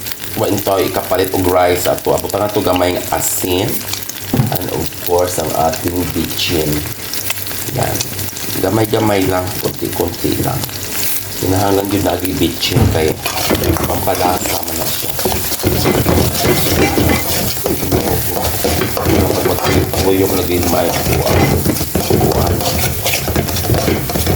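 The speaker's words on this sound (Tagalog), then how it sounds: "sayon ra kayo ang pag sangag og rice" Leftover rice stir-fried in a pan, with a loud, constant sizzle and frying hiss throughout, broken by repeated scraping and clinking of a utensil against the pan as it is stirred.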